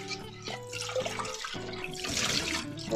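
Water runs steadily from a kitchen tap while cooking pots are washed, a continuous close splash with some faint clanking underneath, in a home kitchen before lunch is cooked.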